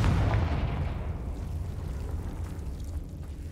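Bombarda and Confringo spell blasts from the Hogwarts Legacy video game: a loud, booming explosive burst at the start that decays into a long, low rumbling roar, with no talking.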